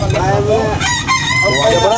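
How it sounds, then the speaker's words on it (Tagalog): A rooster crows loudly and close by, its long strained call filling the moment over a noisy background. "Guwapong manok."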